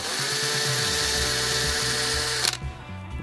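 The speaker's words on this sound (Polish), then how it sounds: "I staram się powiercić wszystkie otwory, które mogą być potrzebne, szczególnie z tyłu" A power drill bores holes in the back of a handmade guitar body, a steady loud whine that cuts off abruptly toward the end, followed by a short rattling spin-down.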